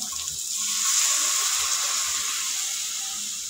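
Water poured into a hot pan partway through cooking a sauced Filipino dish, giving a steady sizzling hiss that swells early and then holds evenly for a few seconds, with no one talking.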